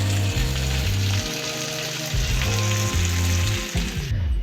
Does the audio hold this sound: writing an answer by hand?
no